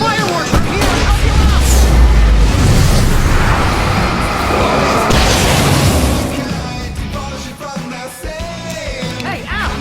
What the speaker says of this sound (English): I can set off more of the fireworks from here and help you